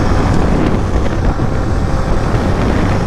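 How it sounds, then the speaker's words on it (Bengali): A Yamaha MT-15 motorcycle ridden on a busy road toward Kishoreganj, heard as a steady, loud wind roar buffeting the microphone over a low engine rumble, with no talking. "আজকে যে বাইকটা চালাচ্ছি সেটা হলো MT-15, রাশেদের বাইক।"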